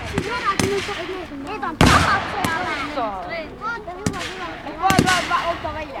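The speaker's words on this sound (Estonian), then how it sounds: "tankitõrje kahur tegi lasu" Anti-tank gun fire at a battle reenactment on a smoky field during a defence-day demonstration, several sharp loud bangs spread across the moment, with someone talking over and between the reports.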